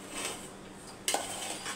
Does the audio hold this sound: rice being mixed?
yes